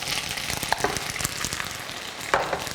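Baby octopus (jjukkumi) stir-fried over moderate heat for butter fried rice with garlic scapes, giving a steady crackling sizzle with a few sharper pops and scraping stirs, close and continuous.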